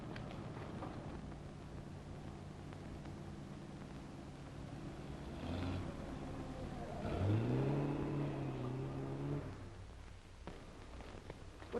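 A 1930s car drives up, its engine rising in a low, moderate rumble that peaks and then settles, heard fairly close on an old, hissy film soundtrack with no talking.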